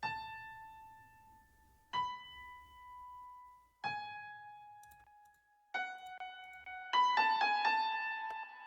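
Unprocessed piano with no effects, sounding as single sustained notes struck about every two seconds, then a quicker cluster of notes near the end, clean and alone.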